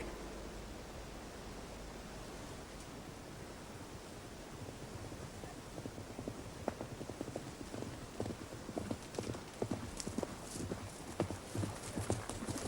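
A ridden horse's hooves clip-clop in a steady rhythmic gait, growing clearer over the second half against a constant rushing noise bed, with no talk.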